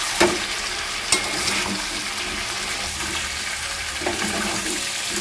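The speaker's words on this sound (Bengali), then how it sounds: "মাংসটা আমি 5 মিনিট মতো ঢেকে ঢেকে খুব ভালো করে কষিয়ে নিয়েছি" Chicken pieces sizzle loudly in a pan as they are stirred and turned, a constant close frying hiss broken by a couple of sharp scraping clinks, with no talking.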